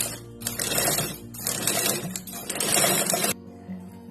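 A sewing machine stitches a zipper strip onto a fabric ladies' party bag in two close, loud, rapid bursts split by a short pause, then falls silent.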